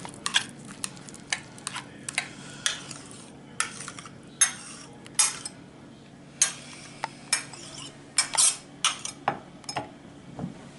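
A spoon stirs a rosemary, lemon, black pepper and salt mixture in a bowl, making a string of sharp, separate clinks and scrapes at an uneven pace against a quiet, faintly humming background.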